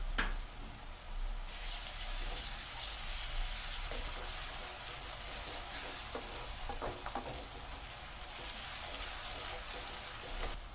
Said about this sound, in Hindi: अब इसमें लहसुन अदरक का पेस्ट डालेंगे और 3 मिनट तक भून लेंगे।